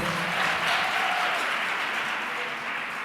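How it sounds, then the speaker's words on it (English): A school audience at a learner-led gender-based violence prevention dialogue gives a round of applause, a steady, moderately loud crowd clapping that holds evenly throughout, slightly receding toward the end. "Please give yourselves a round of applause."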